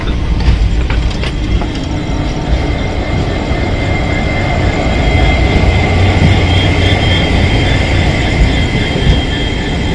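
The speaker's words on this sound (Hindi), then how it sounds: "Solapur Mumbai Chhatrapati Shivaji Maharaj terminus Siddheshwar express dedicated train है" The Solapur–Mumbai Siddheshwar Express makes a loud, continuous rail rumble and roar that holds steady throughout, with no voices.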